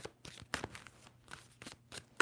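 Tarot cards being shuffled by hand, a run of quick papery riffles and slaps in uneven bursts, close and fairly quiet, with no talking.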